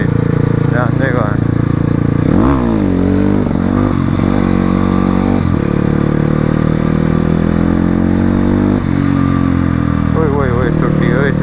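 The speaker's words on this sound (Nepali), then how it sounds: "भनेको कस्तो स्कुटर आएर जाँदै गयो।" A scooter passes close by on a road, its loud engine drone rising and then falling in pitch as it goes past over a continuous rumble of engine noise.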